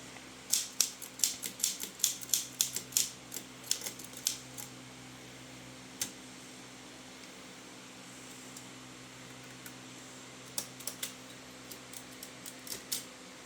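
An Oliver typewriter clacks in quick bursts of sharp keystrokes with a steady fan hum underneath, busy at first, then sparse single strikes, and busy again near the end.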